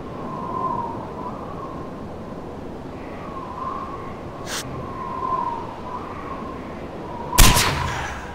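Two sharp rifle shots ring out in Far Cry 4 over quiet outdoor ambience. A thinner crack comes first, then a louder, heavier blast a few seconds later that echoes briefly.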